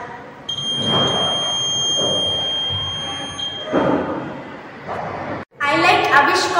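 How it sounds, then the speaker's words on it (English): A steady, high-pitched electronic buzzer tone from a proximity alert on a student-built maker project sounds for a few seconds while people talk nearby, then it stops. "When the object is near, the buzzer will give alert."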